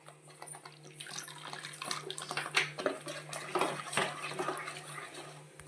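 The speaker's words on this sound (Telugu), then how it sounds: "కొంచెం వాటర్ వేసుకోవాలి." Water is poured into paneer butter masala cooking in a pan, making quiet, irregular splashing and trickling that builds and wavers over several seconds, with faint clinks of cookware.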